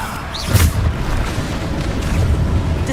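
The Bombarda explosion spell from Hogwarts Legacy lands as a loud, deep boom, followed by a sustained rumbling roar that lingers for a couple of seconds.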